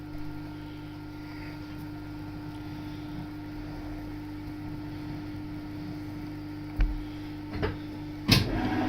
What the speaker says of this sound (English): Put the lathe onto a slower speed and just slowly feed in.